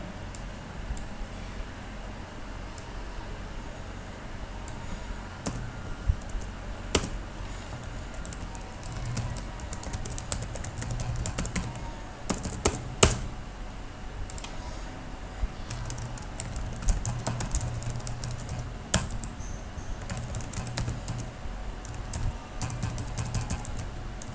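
Typing on a computer keyboard while entering account details on a sign-up form, with a steady stream of close, crisp key clicks running throughout and no talk.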